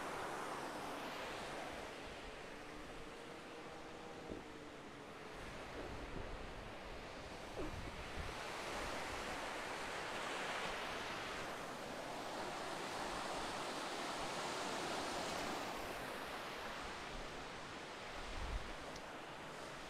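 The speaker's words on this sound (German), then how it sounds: "Jetzt auch ein sehr, sehr herrlicher Wellenrausch gerade hier bei uns am Strand von Kumköy." Ocean waves roll steadily onto the beach at Kumköy near Side, a continuous broad wash of surf with gentle swells and some wind across the microphone, no voices.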